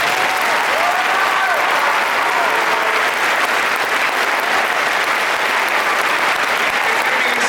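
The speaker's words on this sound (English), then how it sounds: "Have a big round of applause." Big applause from an audience at a high school band concert, a steady dense wash of clapping and crowd noise that fills the whole stretch at high level.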